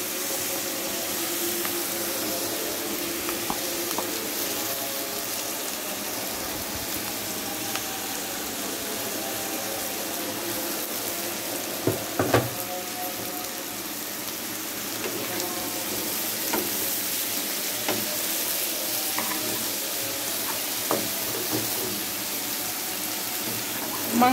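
Poya fish and mixed leafy greens fry in a pan with a continuous, fairly loud sizzle and hiss, with occasional soft clinks and stirring noises over the sustained crackle.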